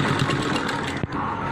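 Sewing machine stitching along the bottom hem of denim jeans while a zip is fitted at the cuff, a steady continuous mechanical whir throughout, briefly interrupted by a short thump near the end.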